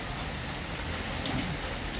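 Storm rain pouring steadily, a dense, even hiss of heavy drops on surfaces, continuous and fairly loud throughout with no voices.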